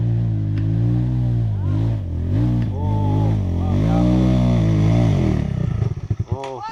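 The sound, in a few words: motorcycle revving going uphill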